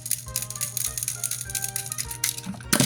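Plastic wheels of a push-along Thomas toy train, the Emily engine, rattling and clattering continuously as it is rolled along, close and busy with uneven bursts, no talk.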